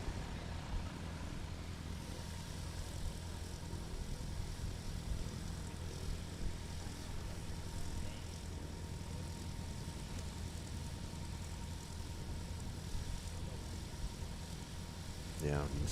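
Propeller aircraft taxi past at a STOL competition practice in Sulphur Springs, Texas, their engines a steady, moderately distant drone beneath faint background noise.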